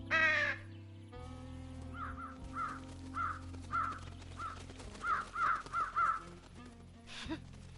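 Several crows in the Trüberbrook video game caw repeatedly in a loose rhythm of short harsh calls, some doubled, at moderate distance over a low ambient hum.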